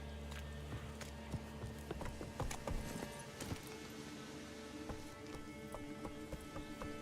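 The horse Roach trots in The Witcher 3: Wild Hunt, hooves clip-clopping in a quick, quiet, steady rhythm beneath low game ambience and music.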